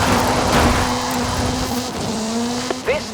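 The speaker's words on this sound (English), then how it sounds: "This is Mr. Kenneth Block's Hoonigan Gymkhana 10 Ford Focus RS RX. 2-litre, turbocharged, front-mounted engine and all-wheel drive." In Forza Horizon 5, Ken Block's Hoonigan Gymkhana 10 Ford Focus RS RX (a 2-litre turbocharged, front-engined, all-wheel-drive car) holds a steady, loud engine drone. Brief tire squeals break in near the end.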